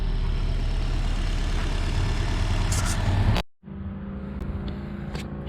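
A 2006 Nissan Altima's engine runs steadily after a fuel pump replacement, a close, continuous low rumble that cuts out abruptly and then resumes at a slightly lower level.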